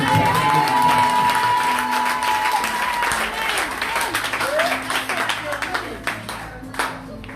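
A church congregation breaks into applause and cheering with loud, sustained clapping and raised voices, thinning out into scattered claps near the end; a tonal hum runs underneath at the start.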